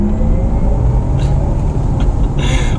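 A Porsche Taycan Turbo electric car drives along with a low, steady rumbling hum of road and motor noise, interrupted by a few faint higher whirring touches near the end.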